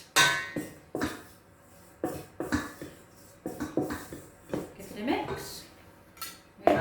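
A wooden spoon knocks and scrapes around a bowl while cheese scone dough made with reduced-fat cheese and skimmed milk is mixed, giving irregular close thuds and clatters with quiet gaps between them.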